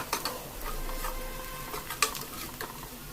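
Onions being stirred and fried in a pan, a faint steady sizzle with light scraping and a few small clicks from the spoon, close and quiet, no one speaking.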